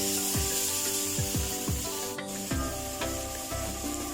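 A spoon scrapes and rubs steadily around a pan as mixed masala and turmeric are stirred into tomatoes, with repeated close strokes over a continuous background sizzle and no talking.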